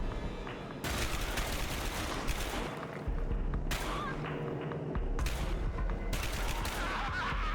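Heavy gunfire from the Dark Sector video game on PS3, with dense bursts of shots, booms and rapid fire coming in several loud waves, separated by brief lulls of rumbling combat noise.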